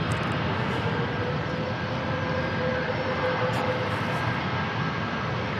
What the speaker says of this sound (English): United 1763 taking off to San Francisco here.